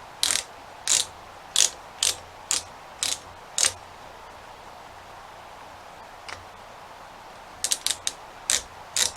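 Tubing cutter ratchets around copper tubing in sharp, close clicking bursts, a run of six evenly spaced clicks, a pause with one faint click, then a quicker cluster of clicks.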